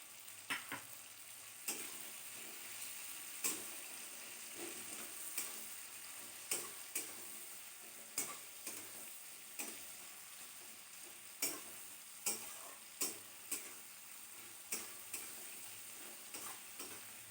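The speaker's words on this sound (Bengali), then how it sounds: "আমার পেঁয়াজটা টমেটোটা প্রায় ভাজা হয়ে গেছে" Onion and tomato fry in a pan with a soft, steady sizzle, punctuated by regular sharp clicks and scrapes of stirring throughout, quiet and without any voices.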